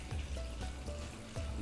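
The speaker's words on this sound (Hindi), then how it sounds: "तो फ्राइंग पैन में पानी डाल लेता हूँ लगभग" Water poured into a frying pan, a soft steady trickling stream with faint splashing pulses, fairly quiet and alone.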